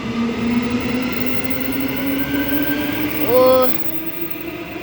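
An EMU electric train, sets 108 and 89 leading a service to Clarkson, rolls through Currambine station with a steady loud rumble and hum, then a brief rising whine of tones near the end; a person speaks briefly.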